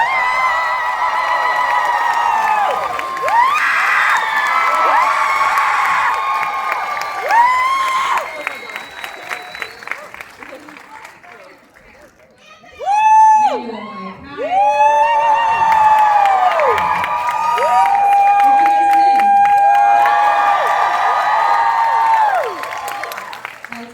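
An audience at a movie Q&A with Halsey and director Oscar Boyson cheers, whoops and applauds as she comes out, loud sustained crowd noise with high shouts, dipping briefly before swelling again.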